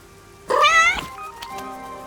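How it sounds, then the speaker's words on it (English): A cat in the video game Master Detective Archives: Rain Code lets out a single clear, close meow lasting about half a second, alone over a quiet background. "That's what the cat is saying."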